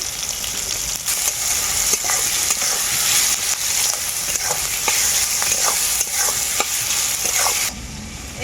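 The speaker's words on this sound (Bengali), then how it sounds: "পেঁয়াজটা ভাজা হতে থাক" Sliced onions with salt fry in hot oil left over from frying potato and papaya, giving a steady loud sizzle broken by scrapes and clinks of stirring, ending abruptly.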